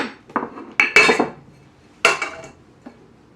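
A utensil mixing gluten-free flour and salt in a bowl makes several sharp clinks and scrapes in uneven bursts, close and fairly loud, with quiet gaps between strokes and no talking.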